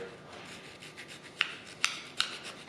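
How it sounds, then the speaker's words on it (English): A small round file smoothing a cut plastic tab on a motorcycle handlebar, several faint rasping rubs with three sharper scrape strokes near the end, close and quiet. "now I'm just gonna take a little round file and smoothen that out a bit"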